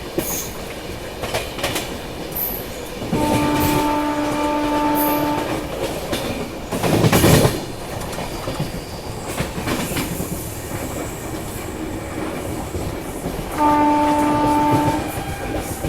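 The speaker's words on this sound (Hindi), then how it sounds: "सामने से आ रही है मुंबई की ओर जाने वाली सेंट्रल रेलवे सिया राजधानी" The Chennai Rajdhani passenger train rumbles past with a loud rushing roar, and a long two-tone horn sounds twice, once early and once again near the end.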